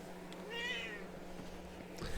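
A cat perched on a person's shoulder lets out one drawn-out meow straight into the microphone, close and clear against a quiet, low background hum.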